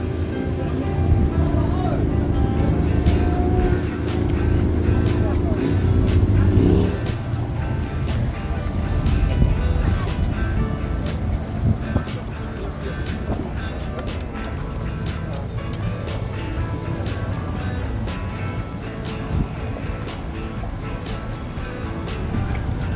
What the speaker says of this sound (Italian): Mamma mia che traffico!